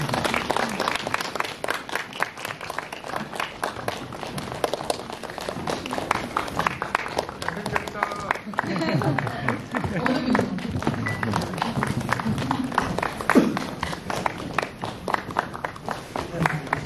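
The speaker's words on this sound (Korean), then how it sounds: "박수 부탁드립니다." A cinema audience at a Korean film screening with director and cast applauds steadily, a continuous dense patter of clapping throughout while a host speaks over it.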